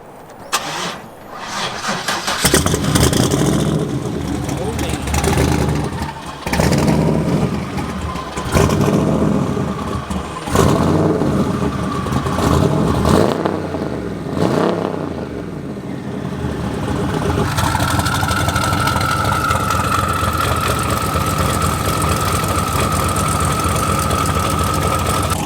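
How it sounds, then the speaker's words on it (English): A 1500 hp twin-turbo Corvette Z06 cranks and fires, then barks through a series of loud, sharp revs before settling into a steady, rumbling idle with a whining tone on top. "let's get this thing fired up"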